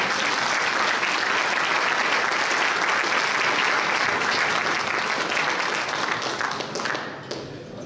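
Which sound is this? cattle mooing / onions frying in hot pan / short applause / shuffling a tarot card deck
short applause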